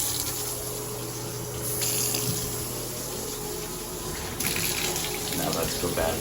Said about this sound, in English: We're gonna turn the hot water on in here.